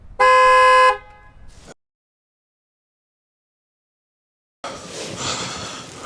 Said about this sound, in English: So let's hear what the horn sounds like